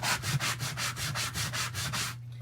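A sanding block from the automotive aisle rubs back and forth across a surface on a table. About nine steady, rhythmic rasping strokes sound close and clear with no speech, then stop.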